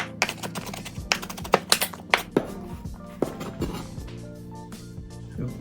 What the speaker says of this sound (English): Now you can chop it to the size you want.